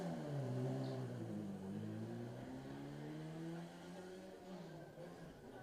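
A 1798 cc metallic blue MGB Roadster pulls away from the line, its engine rising in a harmonic revving whine that slides through gears and fades slightly, heard faintly at a distance with some background chatter.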